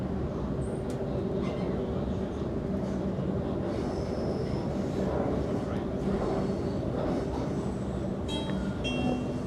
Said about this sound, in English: And there goes our train.